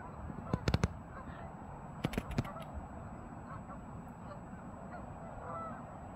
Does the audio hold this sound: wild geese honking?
yes